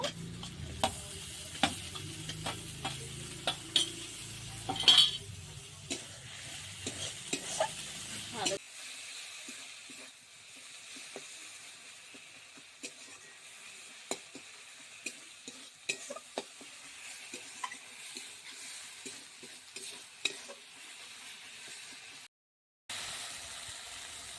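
Chopped tomato frying in a pan for Bengali basanti pulao and egg curry, with scraping stirs and a steady sizzle, busier in the first seconds, then a quieter hiss with scattered clinks.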